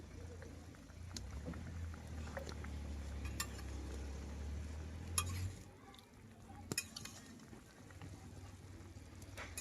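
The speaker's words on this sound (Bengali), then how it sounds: "তারপর হচ্ছে আমি ঢাকনাটাকে উঠিয়ে একটু নেড়ে দিব" A spoon stirs small freshwater fish simmering in a sour tomato curry once the lid comes off, with soft scraping and scattered clinks against the pot over a low bubbling simmer and a faint background hum.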